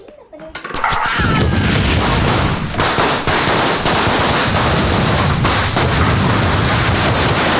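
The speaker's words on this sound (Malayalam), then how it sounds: "എന്തിനാ ആളുകൾ പടക്കം പൊട്ടിച്ചേ? ഇന്ന് വിഷു." Firecrackers burst for the Vishu festival in a loud, dense, nearly continuous barrage of cracks and bangs that starts suddenly after a quiet first second.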